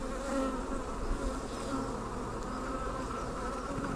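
Honey bees buzz in a dense, continuous hum around a hive being worked for a demaree split, with individual bees droning close by over the steady swarm, and no talking.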